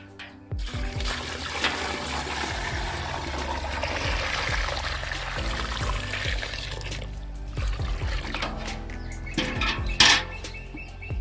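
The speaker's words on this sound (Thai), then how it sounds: "น้ำนะครับ น้ำเปล่าให้ท่วมแกบดำเลยครับ" Plain water pours steadily from a container over black rice husk, a continuous splashing gush lasting several seconds with a brief louder splash near the end.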